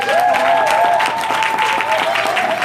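Congregation clapping at a church Youth Sunday service, a dense, sustained round of hand claps from the pews with some organ or keyboard tones and crowd murmur blended in.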